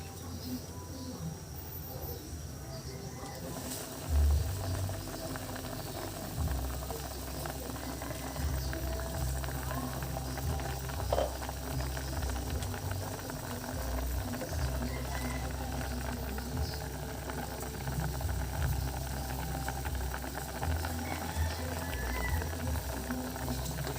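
Corned beef and potatoes simmer in a pot at a rolling boil, steady close bubbling that runs without pause, with a brief louder clatter near the start.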